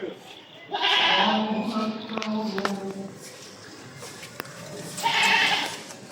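Two goats bleat nearby, one drawn-out cry and then another a few seconds later, with a quiet outdoor background between them.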